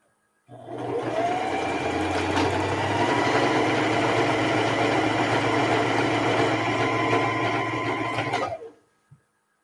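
A domestic sewing machine stitching quilt blocks for a Dear Jane quilt runs in one steady, continuous whir for about eight seconds, close and fairly loud, then stops abruptly.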